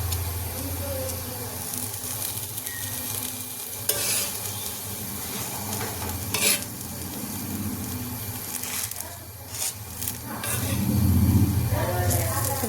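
Patishapta crepe batter cooking on an oiled tawa, a continuous close sizzle and hiss with a low steady hum beneath, someone talking over it for much of the time.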